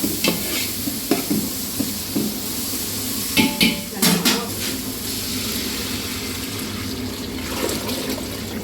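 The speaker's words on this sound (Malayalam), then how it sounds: "ഞാൻ ഇതിനകത്തേക്ക് ഞാൻ എടുത്ത് വെച്ചിരിക്കുന്ന വെള്ളം ആഡ് ചെയ്യുക" Water splashes into a pot of rice for pulao with gurgling and clattering, mixed with stirring sounds against a steady background.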